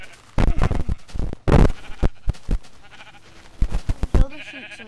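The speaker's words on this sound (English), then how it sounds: "Kill the sheep so we can make beds if we can." Sheep in a video game bleat repeatedly in short, loud, close bursts, with a few clustered calls and brief gaps between them.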